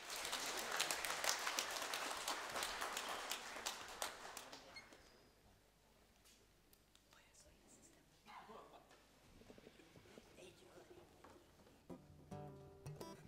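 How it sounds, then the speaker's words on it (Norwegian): Audience applause at a Norwegian sing-along gathering, a loud burst of clapping for the first few seconds that fades into quieter room noise, with scattered later sounds. "En ordentlig applaus til Unni!"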